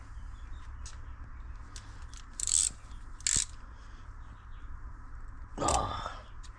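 Wrench work loosening bolts on a seized Predator 212cc small engine, with a few short metallic ratcheting bursts close by against a steady low background hum.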